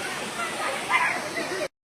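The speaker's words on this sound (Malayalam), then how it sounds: "ഇതാണ് വാട്ടർഫാൾ." A waterfall in Munnar, Kerala, gives a steady, close, broadband rush of falling water that runs evenly until it cuts off abruptly near the end.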